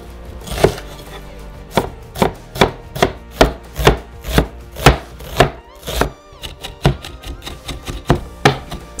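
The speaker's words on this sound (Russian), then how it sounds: "И нарезаем ее мелким кубиком." A knife dices an onion on a wooden board, about a dozen crisp, evenly spaced strikes, then quicker lighter chops toward the end.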